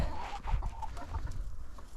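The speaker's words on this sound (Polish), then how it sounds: "Kurą rzucę garstkę, może sobie coś tam powiedziobują a może i nie." Chickens clucking steadily at close range as they are fed a handful in a coop, a busy overlapping cackle with no one speaking.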